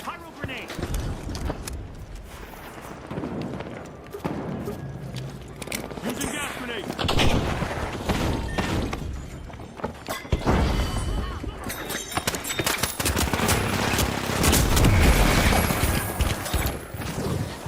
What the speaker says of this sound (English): Using pyro grenade.